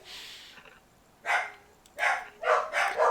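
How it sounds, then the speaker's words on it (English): Several dogs bark outdoors at a moderate distance, in a few separate bursts after a quieter stretch, with no talking over them. "And I'm sorry about the dogs."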